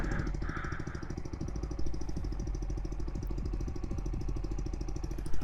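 A 2024 CF Moto 300SR sport motorcycle engine idles steadily nearby, a continuous low pulsing throb with faint mechanical clatter and no talking.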